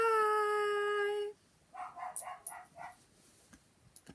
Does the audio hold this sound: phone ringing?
no